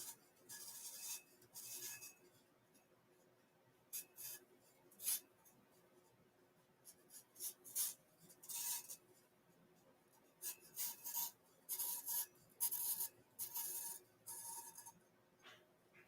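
An X-Acto knife cutting off excess material on a sublimation tumbler, a series of short, faint scraping rasps in uneven bursts with quiet pauses between them, close by and with no voices.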